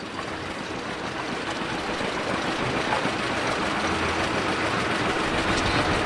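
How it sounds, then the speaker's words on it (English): Tractors rolling past in a 2018 Glennville parade, a steady low engine rumble with broadband noise that stays constant throughout, no talk over it. "Got more of our tractors coming in now."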